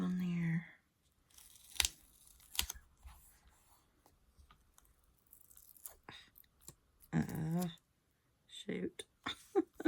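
Sticky tape is torn and pressed down at a crafting table in a few short, close ripping bursts between stretches of soft talk.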